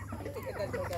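Backyard farm chickens cluck in a short burst close by, a steady jumble of low calls over a dense background.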